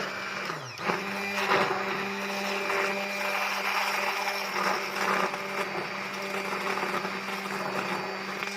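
An electric blender whips a homemade hair cream mixture with a loud, steady motor whine. After a brief dip near the start it spins back up and runs on continuously, close to the listener.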